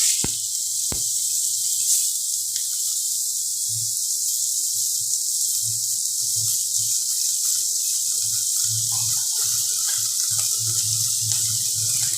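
Thinly sliced medium onion tossed into hot oil for a katla fish curry, giving a loud, steady, close sizzling hiss with a few soft low bumps and no talking.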